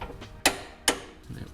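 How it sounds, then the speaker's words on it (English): A torque wrench ratchets on a Ford Taurus strut bolt being tightened to 80 foot-pounds, giving two sharp metallic clicks spaced apart over soft mechanical ticking, close by. "I'm gonna go ahead and torque this down to 80 foot-pounds."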